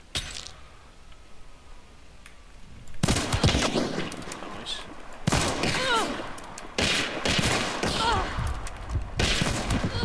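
Gunfire from a shootout in Hunt: Showdown, a series of loud sharp shots and reports with heavy echoing tails, spaced irregularly over a constant background rumble.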